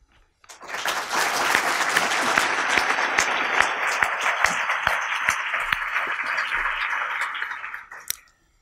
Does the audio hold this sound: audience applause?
yes